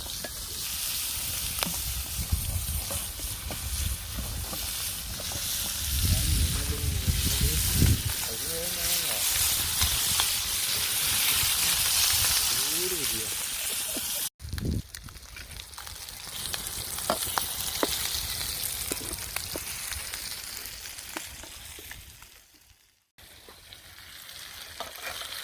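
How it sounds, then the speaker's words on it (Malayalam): Snakehead fish frying in a pan on a shared stove, a loud continuous sizzle and hiss with stirring and scraping, a brief cut midway, then frying resumes; voices are present at times. "അതുപോലെ മീൻ പൊരിക്കലും ഒരു ഭാഗത്ത് നിന്ന് നടക്കട്ടെ"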